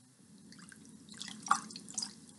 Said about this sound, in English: Silently, Beaver slips into a dive.